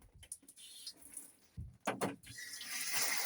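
A tap is turned on after some handling clatter, and water starts running into a caravan washbasin, hissing steadily and getting louder toward the end, close by.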